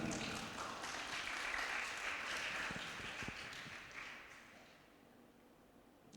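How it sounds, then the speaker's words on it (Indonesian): An audience applauding at a speaking event: a dense, sustained patter of clapping that gradually thins and fades toward the end. "Ya, tepuk tangan."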